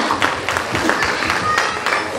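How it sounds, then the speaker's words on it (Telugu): An audience at a women's empowerment gathering applauds, producing a dense, continuous patter of many hands clapping at steady loudness with no break. "గట్టిగా క్లాప్స్ ఇద్దాం."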